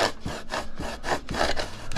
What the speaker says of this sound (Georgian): ხერხი არა მაქვს და უნდა ვიწვალო ამით ახლა. ხერხიანი დანით.